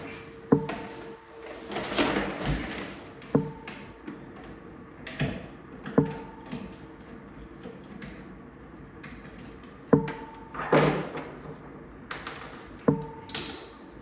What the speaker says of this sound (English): I need to take the lock out of the door real quick.